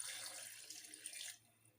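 A short pour of a little water into garlic, ginger and green chillies before blending, a close, soft splashing trickle that stops abruptly near the end.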